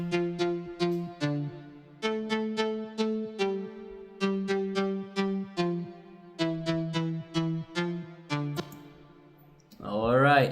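The second synth layer of the lead melody plays alone as a steady run of short, bright, plucked notes in repeating phrases. Speech starts right at the end.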